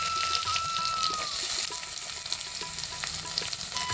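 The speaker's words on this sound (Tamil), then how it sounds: "நல்லா எண்ணெயில் வதங்கிடுச்சு" Steady sizzling and crackling of shallots, garlic and chilies frying in hot oil, continuous and close, with occasional soft stirring clinks.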